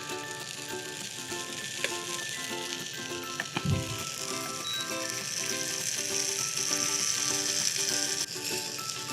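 Vegan French toast fries in a little oil in a pan over reduced heat, a steady crackling sizzle close by with a brief thud of utensil contact partway through and no voices.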